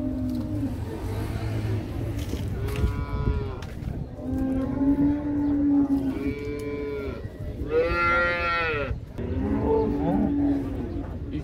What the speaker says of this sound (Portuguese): As vacas são de luxo aqui, viu?